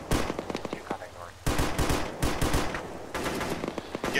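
Bursts of automatic gunfire in an Arma ShackTac tank battle, several rapid volleys at mid distance separated by short pauses, with quiet radio-style talk underneath.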